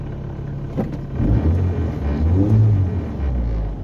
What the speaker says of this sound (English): I will rev for you can you see very solid engine sound